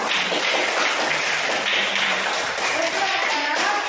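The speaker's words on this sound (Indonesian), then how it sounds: "Oke, kasih tepuk tangan untuk kita semua." A class of children clapping together in a classroom, a dense, steady patter of many small hands that holds at an even loudness from start to finish, with faint voices mixed underneath.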